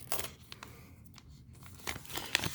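A trading card pack wrapper from a memorabilia hot pack is torn open, with short crinkly rips and crackles in separate bursts at close range and no voices.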